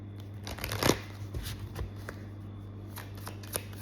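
Romance angel cards are shuffled close by, a quick papery riffle peaking near the start and then trailing into soft scattered flicks over a faint steady hum, with no talking.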